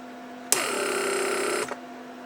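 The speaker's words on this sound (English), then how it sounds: "it'll take a little bit of time before pump will create vacuum to pull them back" The door lock vacuum pump of a Mercedes S-class starts abruptly and runs for about a second with a steady electric whir and buzz, then cuts off.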